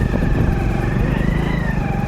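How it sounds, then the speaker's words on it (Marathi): An auto rickshaw engine drones loud and close as it pulls up, a steady, rough motor hum that holds throughout on a rural Konkan road. "रिक्षा आली"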